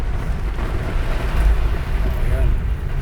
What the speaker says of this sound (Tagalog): May hangin pala ngayon